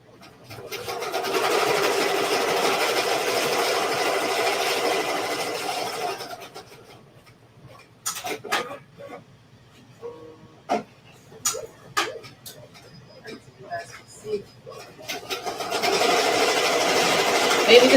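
A Ricoma EM1010 embroidery machine sews a placement stitch with a steady, rapid mechanical chatter. It stops midway for a stretch of clicks and handling noises, then resumes running loudly near the end.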